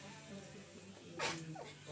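A single short, sharp sneeze bursts out about halfway through, close and fairly loud against quiet room sound with a soft voice murmuring around it.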